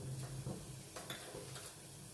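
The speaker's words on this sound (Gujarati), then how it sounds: "તો એમાં જીરું એડ કરીશું" Cumin seeds hit about three tablespoons of hot oil in a kadai (wok) for a traditional Kathiyawadi brinjal dish, giving a close, steady crackling sizzle with faint stirring scrapes and no talk.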